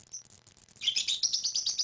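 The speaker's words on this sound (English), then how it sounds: "the birds are screaming right now" Birds chirp loudly in a quick, busy run of high tweets, close by, with no speech over them.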